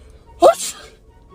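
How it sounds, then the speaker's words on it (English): A single short, loud sneeze bursts out close by as a prank, a faked sneeze made with the voice, followed by a brief spoken word. "you just sneeze in my face?"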